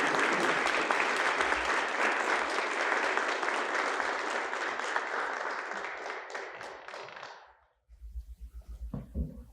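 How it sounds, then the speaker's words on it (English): Eagle Scouts and Gold Award recipients at a Scout troop court of honor receive dense, sustained applause from the audience, which tapers off and stops near the end, followed by faint low thumps. "Please offer a round of applause to recognize all of these individuals and their accomplishments"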